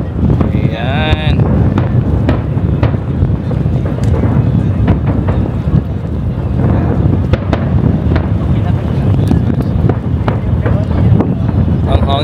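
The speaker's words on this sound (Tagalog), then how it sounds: "Ang hangin, grabe ang hangin" Strong gusting wind buffets the microphone outdoors in Manama, Bahrain on New Year, a loud, continuous roar with bursts of noise, and voices talk faintly underneath.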